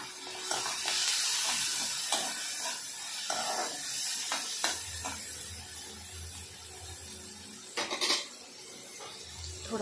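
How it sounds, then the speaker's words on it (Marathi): Curry leaves hitting hot oil in a pan while making egg kadi, giving a bright, steady sizzling hiss that rises with a few sharper crackles, close up and without talk. "कढीपत्ता टाकणार आहोत।"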